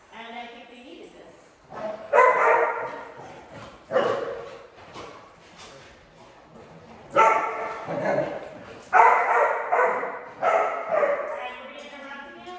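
Young puppies bark and yip in short bursts spread across the stretch, some whimpering between them, close by during a training session, with people talking around the barking.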